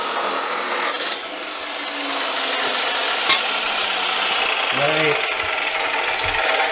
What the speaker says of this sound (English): We're gonna cut that section off and then cut it in half the long way.